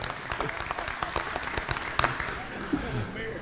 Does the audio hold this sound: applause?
yes